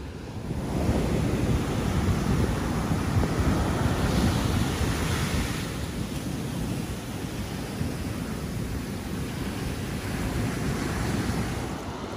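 Ocean waves roll onto Waikiki beach on Oahu, Hawaii, in a continuous loud surf roar that carries on without pause, buffeted by wind noise on the microphone.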